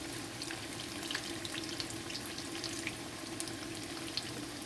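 Saltfish fritters frying in oil on high heat, a steady dense crackle and sizzle with scattered sharper pops, close and continuous throughout.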